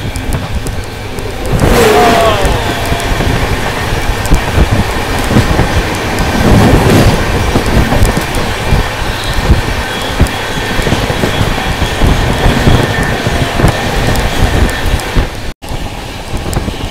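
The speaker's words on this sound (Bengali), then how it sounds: "সামনে আসছে ট্রেন নাম্বার 12332" Himgiri Express, train 12332, approaching, a loud continuous rumble and roar of rolling wagons with whooshing surges as it draws near.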